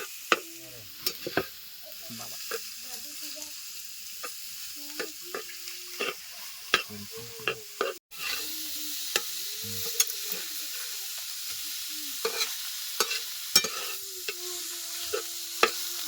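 Karadu fries in a pan for a Konkan-style recipe. A steady, close sizzle runs throughout, broken by frequent scraping and clacking stirring strokes at an irregular pace.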